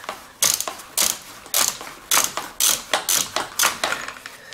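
A hand ratchet turns out a bolt on a BMW 3 Series starter motor (E46/E90), loud and close, with about nine evenly spaced clicking strokes in a steady rhythm and no talk.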